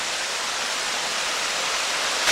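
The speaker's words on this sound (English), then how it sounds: "So I guess that is our waterfall right there. Alright, it is flowing." The waterfall at Hell's Hollow in McConnell's Mill State Park flows with a steady, dense hiss of rushing water, close and continuous throughout.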